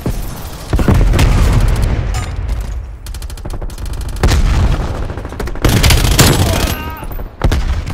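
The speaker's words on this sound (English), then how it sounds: "Semtex grenade." Semtex grenade blasts and gunfire in Call of Duty: Black Ops Cold War, several loud booming bursts with rapid shots in between, dense and close, with a game announcer's voice briefly heard.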